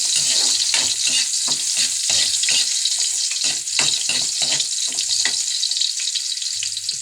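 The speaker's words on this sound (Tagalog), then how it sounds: "Igisa ang luya." Ginger sautéing in a hot pan gives a loud, bright, continuous sizzle close by, broken by a quick series of spatula scrapes and taps against the metal, with no talking.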